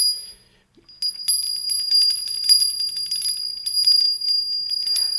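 A small hand-cast bell from the Obertino foundry in Morteau, hung by a black leather strap, rings in a steady, bright tinkling after a brief silence, close and fairly loud.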